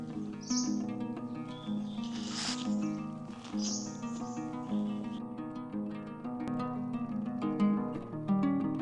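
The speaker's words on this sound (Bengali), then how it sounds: "নীরব নিস্তব্ধ পাহাড়। শুনুন পাখির ডাক।" Birds call in hill forest at Modhutila Eco Park, Sherpur: a few high, bright chirps stand out near the start and around the middle above a steady bed of tonal background music.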